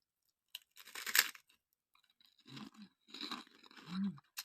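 Someone bites into crunchy homemade spicy chicharon pork cracklings, giving a loud crisp crunch followed by several close, moist chewing crunches with short pauses between them.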